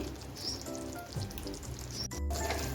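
Eggplant pieces simmer and sizzle gently in a poppy seed gravy with whole green chillies in a pan, making a faint, steady crackle with scattered small pops and no talking.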